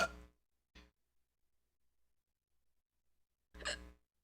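Loud, abrupt hiccups from a woman: one at the start, a smaller one shortly after, then a long quiet gap before a final strong hiccup, each sharp and isolated against silence.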